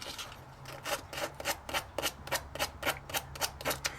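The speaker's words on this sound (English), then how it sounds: "So what I'm going to do is I'm going to sand it a little bit." Hand sanding of a model ship part, heard as a steady series of rasping strokes, about three per second, close and fairly loud with no talking.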